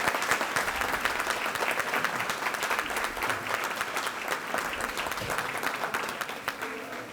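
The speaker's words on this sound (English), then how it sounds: "Parents, teachers, you stand up and get an applause as well." A school audience gives steady, dense applause for teachers and parents at an awards event, a continuous crackling roar of many hands clapping at an even level, with faint crowd murmur beneath.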